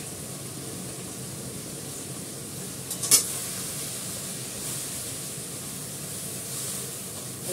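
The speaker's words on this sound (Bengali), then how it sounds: "রসুন আর কালো জিরে ফোড়ন দিয়ে করছি" Garlic and nigella seeds fry in hot oil with a steady, moderate hissing sizzle throughout, broken once by a brief sharp clink of a utensil against the pan.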